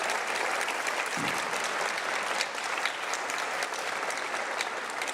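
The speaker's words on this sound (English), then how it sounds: "Let's give them a round of applause." Audience at a Rotary Club scholarship night applauds club members, a dense, even wash of clapping from a sizable crowd sustained throughout at steady volume.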